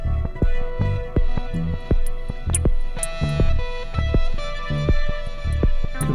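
A loud, bright hi-hat ticks rhythmically through a drum groove with a kick and tonal hits, the cymbal cutting through a mix processed by the Airwindows DeHiss filter.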